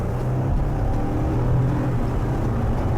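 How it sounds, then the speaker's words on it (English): A 2020 Ford Transit AWD van with an EcoBoost engine is floored uphill, its engine holding a steady, loud drone from inside the cabin with continuous road rumble underneath. "I'm gonna go uphill and floor it."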